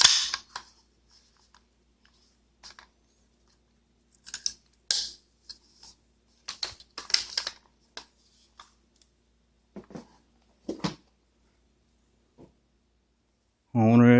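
A Colt M4 .22LR semi-automatic rifle fires a series of light, sharp cracks, spaced irregularly across the stretch with quiet gaps, fairly close, before a voice begins at the end.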